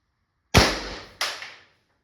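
LL4D Pistelle X68 CO2 carbine firing two sharp, loud shots in quick succession, each cracking and then decaying with a hiss of gas, followed by a faint third pop.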